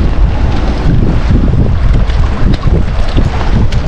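Strong wind buffets the microphone on a fishing boat, a loud gusty roar with water splashing and sloshing underneath, continuous throughout.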